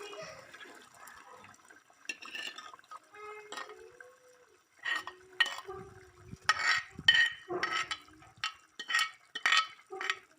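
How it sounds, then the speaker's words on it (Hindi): Mixed lentils tipped into a pot of separated oil and stirred, giving scraping and clattering bursts at moderate loudness, denser and louder in the second half with short gaps between strokes. "आप दालें शामिल करते हैं।"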